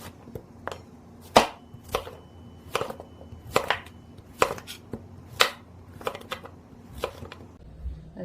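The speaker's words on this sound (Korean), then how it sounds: "먼저 호박을 먹기 좋게 썰어 줄게요" A knife chops through a large country squash (hobak) on a cutting board, about a dozen distinct, close thunks at an uneven pace in a quiet kitchen, with no talk.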